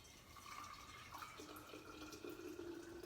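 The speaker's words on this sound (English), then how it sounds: "we simply just fill it with the hot water" Hot water pours into a high-temperature glass jar of tea, a faint, steady trickle whose tone slowly rises as the jar fills, quiet and close with no talking.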